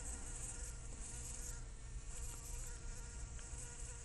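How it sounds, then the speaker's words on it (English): A bee buzzes frantically and continuously, a faint, steady droning hum with no talk over it. "This bee is very, very frantic."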